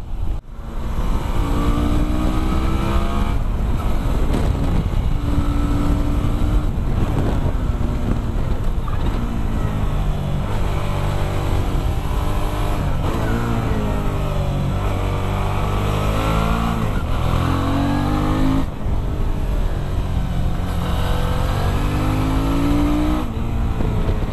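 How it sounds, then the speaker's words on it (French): A 2017 Suzuki V-Strom XT 650 motorcycle engine rises and falls through repeated accelerations while riding, a loud, continuous drone with pitch sweeping up and down through gear changes. "La moto accélère légèrement pour éviter de caler."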